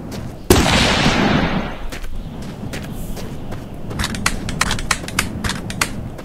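Gunfire from a gun in the video game The Long Drive, played in multiplayer: one loud close blast opens a dense burst of shots over about a second and a half, followed by scattered sharper cracks and clicks.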